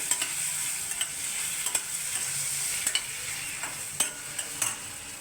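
Spices being mixed into pointed gourd frying in a pan, a continuous bright sizzle broken by repeated light taps and scrapes of the spatula in an irregular rhythm.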